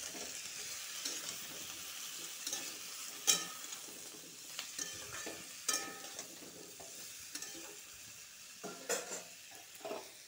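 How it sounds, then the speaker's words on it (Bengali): Diced potatoes with salt and turmeric being stirred in a pan, a steady sizzling fry under repeated scraping clicks of a spoon against the metal, several sharper knocks scattered through, close and moderately loud, no talking. "ভালো করে একটু নাড়াচাড়া করব"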